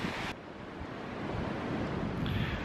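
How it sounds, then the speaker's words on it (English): Strong headwind blows over a river during a solo canoe trip on the Berens River, a continuous broadband rush of wind and choppy water, loud and close, with microphone buffeting and no speech. "you can see what the headwind's doing, I think. It's quite windy"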